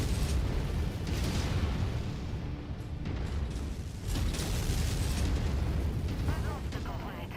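In MechWarrior 5, a tank is destroyed amid continuous rumbling explosions and booming battle noise, with heavy low-end blasts throughout and a player's voice talking over the action.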